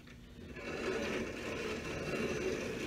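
A 5-in-1 shoe repair machine trims the excess from a new full leather sole on a Crockett and Jones shoe, a steady mid-pitched motor whir with a grinding edge that swells and holds, no voices.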